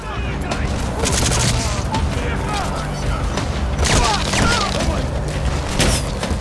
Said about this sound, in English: Another nice shot there by Quiet.